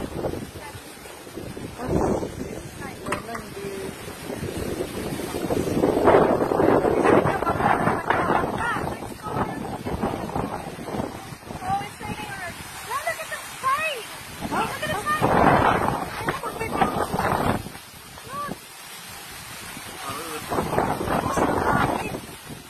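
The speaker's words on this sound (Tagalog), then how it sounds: "Tinaboy ng hangin. Dinadala ng hangin yung ulan." Gusty wind roars against the microphone with a wash of rain at sea, rising and falling in strong bursts while a person speaks intermittently.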